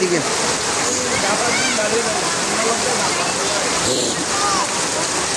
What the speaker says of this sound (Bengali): বৃষ্টি একটানা চলতে আছে, বৃষ্টি চলতে আছে।